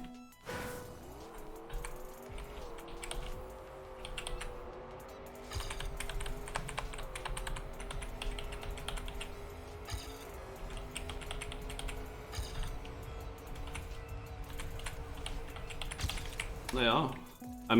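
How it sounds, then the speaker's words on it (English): Keys on a computer keyboard clatter in quick irregular taps while a racing game plays, its car engine droning steadily underneath with brief tire squeals, fairly quiet overall. "Just out of fun, I want to try this with keyboard."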